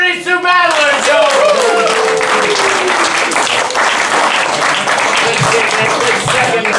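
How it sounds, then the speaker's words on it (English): A crowd at a rap battle league show claps and cheers for two battlers, loud sustained applause with a voice over the opening moments, then dense clapping carrying on to the end. "Clap it up for these two battlers, Joe!"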